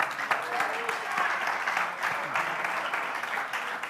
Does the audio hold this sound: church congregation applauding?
yes